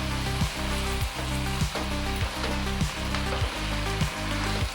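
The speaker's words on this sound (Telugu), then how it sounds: "ఇంత బాగా కలుపుతున్నాను" Amaranthus leaves fry loudly in a pan with a constant sizzle, a low hum and regular stirring scrapes repeating about every second.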